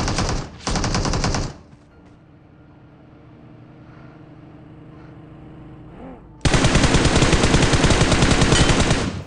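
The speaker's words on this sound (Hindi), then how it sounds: "सामने साइड से एक बंदा मेरे पे और फायर लेता है AKM से" AKM rifle fire in the mobile battle royale game BGMI, two short loud bursts at the start, a quieter lull, then a sustained burst of rapid automatic fire dominating the end.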